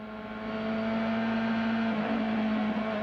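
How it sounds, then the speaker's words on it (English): A 1997 CART Indy car engine is heard on board at the Michigan US 500, holding a loud, steady high-pitched drone that swells in over the first half second. "We ride with Gilles de Ferran as he takes a gear, listening for perhaps a sour engine note."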